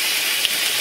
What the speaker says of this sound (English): Sizzle good like that.